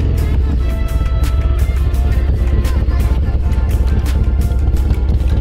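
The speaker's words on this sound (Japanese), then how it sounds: "とりあえずエンジンをかけて出かけたいなと思います。" A Harley-Davidson Dyna with an Evo engine runs loud and close in Los Angeles, a heavy, pulsing low rumble with wind buffeting the microphone and some talk over it.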